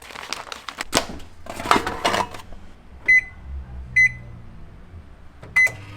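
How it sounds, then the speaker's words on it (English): A microwave oven heats a quick vegan curried vegetable and rice dinner. Packaging crinkles first, then a low hum runs under three short, sharp electronic beeps spaced a second or so apart. "you want to put this in the microwave for as long as it says."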